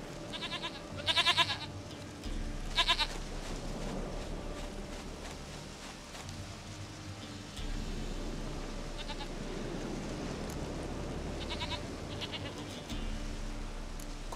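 A goat in The Witcher 3 bleats a few times, with two short cries early and another later on, over a steady low ambient bed, with faint footsteps and no speech.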